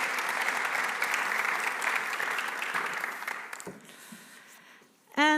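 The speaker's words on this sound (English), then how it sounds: "a big round of applause for you" An audience at an evening expert discussion on wind energy gives a sustained round of applause that thins out and stops, followed by a short burst of sound at the end.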